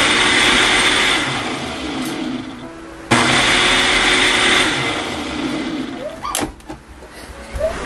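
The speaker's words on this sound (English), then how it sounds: "So I will blend it to mix up." A blender whirs loudly as it mixes avocado with cocoa powder and sugar, running in two bursts separated by a brief stop before winding down into clattering handling noises near the end.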